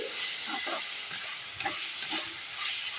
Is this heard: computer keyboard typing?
no